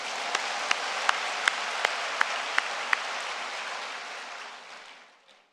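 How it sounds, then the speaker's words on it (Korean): Congregation applause at a church fasting prayer service, a steady, dense wash of many hands with a few sharp individual claps standing out, tapering away over the last seconds. "하나님께 영광의 박수 올려드립니다."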